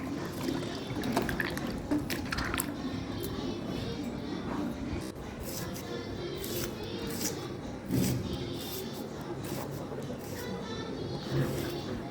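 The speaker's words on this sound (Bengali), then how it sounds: "আমি পেঁয়াজগুলো ভালোভাবে ধুয়ে কেটে নিচ্ছি।" A kitchen knife slices washed onions lengthwise for a Bangladeshi egg curry, giving faint, irregular clicks and taps on a board over a soft, steady background hiss.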